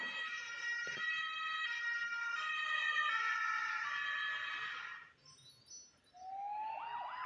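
Ambulance siren wailing loud and steady for about five seconds with layered harmonic tones, breaking off briefly before a rising whoop-style sweep begins near the end.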